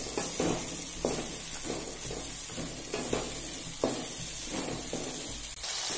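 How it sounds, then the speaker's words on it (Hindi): A spoon stirs green peas into frying masala for a pea chutney, with a steady close sizzle under repeated scraping strokes against the pan. "अब इसमें हम थोड़ा मटर ऐड करेंगे और चम्मच से अच्छे से इसको मिक्स करेंगे।"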